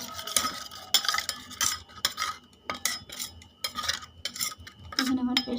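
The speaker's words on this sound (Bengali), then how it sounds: "দিয়ে দেবো জিরে গুঁড়ো, দিয়ে এটাকে একটা পেস্ট বানিয়ে নিচ্ছি।" Spoon scraping and clinking against a pan while cumin powder is worked into a paste for khichuri, in quick, irregular strokes and taps with short pauses between them.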